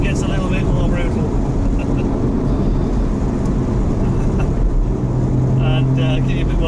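A Porsche 981 GTS in sport mode drives with a loud, continuous engine drone heard from inside the car, a steady rumble with slight shifts in pitch and no one speaking.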